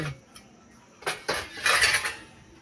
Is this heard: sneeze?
no